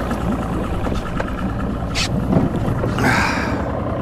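A fishing boat on the water in the Florida Keys runs at speed, its engine droning steadily beneath rushing wind and splashing hull noise, loud and close, with brief louder gusts.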